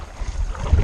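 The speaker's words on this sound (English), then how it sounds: "is a bit windy today, so it's a pretty good test for this little kayak" Wind gusts buffet the microphone while paddling a small Seaflo sit-on kayak on the water, a low uneven roar that swells and rises toward the end of the short moment.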